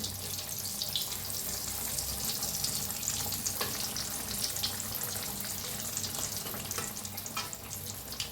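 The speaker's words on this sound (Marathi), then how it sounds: "पहा मस्तच असे छान असे दोन्ही साईडने तळून घेऊया." Batata vadas for vada pav fry in hot oil with a steady, dense sizzle that holds evenly throughout, with no voices.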